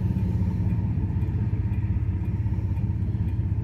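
A single-cab, two-wheel-drive Ford F-150 pickup with the 300 straight-six engine idles with a steady, close, low rumble and a faint mechanical clatter, with no voices.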